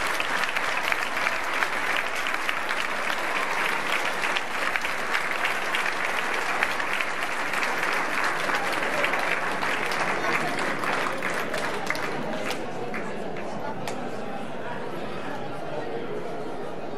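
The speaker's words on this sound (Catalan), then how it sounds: "Un fort aplaudiment." Loud, dense applause from a fashion show audience at an oil and asparagus fair in Godall, sustained for many seconds with crowd chatter mixed in, then thinning and tapering off toward the end.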